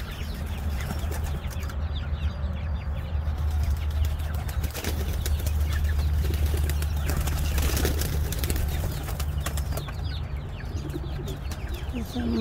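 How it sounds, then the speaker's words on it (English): King pigeons cooing and calling repeatedly in a loft, with occasional wing flaps amid steady background noise and a person talking. "My beautiful king pigeons."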